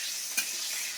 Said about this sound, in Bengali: এটা ভালো করে ভেজে নিই, তেজপাতা, শুকনো লঙ্কা